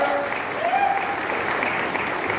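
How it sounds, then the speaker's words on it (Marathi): A crowd claps steadily at a political rally, a sustained wash of applause at moderate distance with no break. "त्यांचं आपण स्वागत टाळ्या वाजवून या ठिकाणी करूया"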